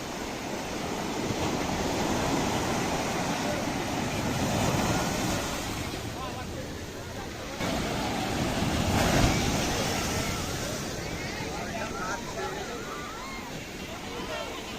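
High-tide sea waves surge and crash steadily along the beach at Old Digha, a continuous heavy wash, with a crowd murmuring faintly in the background.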